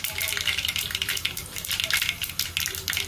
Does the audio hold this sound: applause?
no